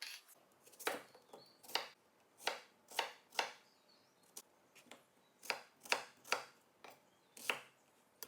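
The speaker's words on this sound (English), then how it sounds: "Next, I'm going to take my peppers and cut them into smaller pieces," A knife chops peppers and onions on a cutting board for chimichurri, giving about a dozen crisp, close strikes in an uneven rhythm against a quiet room.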